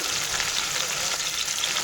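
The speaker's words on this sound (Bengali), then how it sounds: "মাছ কিন্তু লাল লাল করে ভাজা হয়ে গেছে" Shol fish frying in hot oil over a raised flame, a dense, steady close sizzle and crackle continuing without pause.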